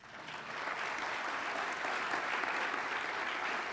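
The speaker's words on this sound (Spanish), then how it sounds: "os pido simplemente un aplauso para Enrique para que note nuestra cálida presencia" An audience in a conference hall claps for Enrique Pérez Montero before his opening lecture, a sustained even roll of applause from many hands that builds quickly and holds steady.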